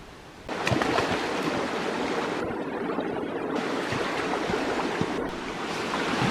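A creek in the Wairarapa hills of New Zealand rushes in a steady, loud, close wash of flowing water, with a few brief knocks and rustles over it and no talking.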